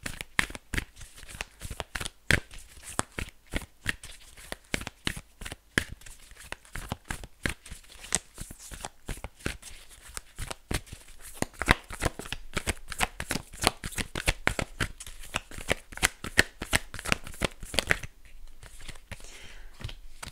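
A deck of angel oracle cards is shuffled by hand, with rapid, continuous riffling and slapping clicks running steadily and close for about twenty seconds, with no talk.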